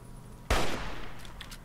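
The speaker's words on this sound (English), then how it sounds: "Shooting his fat guts, I guess." A single loud gunshot in Fallout 3 that cracks sharply and leaves a short echoing tail, followed by a few faint mechanical clicks of the weapon.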